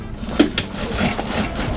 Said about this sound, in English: and then she'll just start sewing.